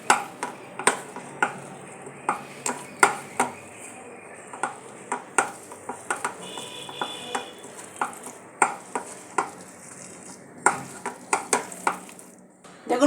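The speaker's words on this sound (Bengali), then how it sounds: "এটাকে আমি এবার একটু মেখে নিচ্ছি।" Pumpkin and potato pakora batter is mixed in a bowl, with sharp irregular clicks and taps over a quiet background, close and fairly soft.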